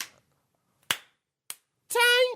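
A few sharp hand claps, three separate smacks spaced apart, followed by a short tonal burst, close and fairly loud with silence between.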